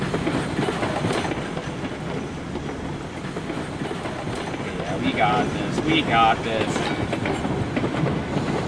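A narrow gauge train in the game Railroads Online rolls along its rails with a steady rumbling clatter that lasts throughout, while someone talks over it now and then.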